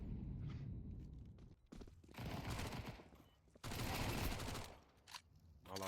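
SMG gunfire in Counter-Strike 2 during a women's esports match, with quiet rapid bursts of automatic fire, a couple of longer sprays, and footsteps in between.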